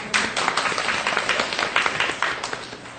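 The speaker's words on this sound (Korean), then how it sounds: "스스로 웃음 주시고 박수를 쳐드립시다" A church seminar audience claps together, a dense burst of applause with quick irregular hand claps that runs steadily for about three seconds at moderate level.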